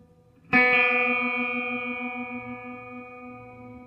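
A single strummed guitar chord rings out and slowly fades, its detuned strings beating against each other in a steady, pulsing wobble.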